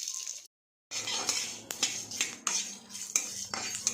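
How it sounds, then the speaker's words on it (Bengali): Panch phoron spices, with chillies, fry in a pan for a mango pickle, heard as a soft sizzle under repeated clinks and scrapes of a metal spoon stirring against the pan, after a short silent break. "পাঁচফোড়ন ভেজে নেব।"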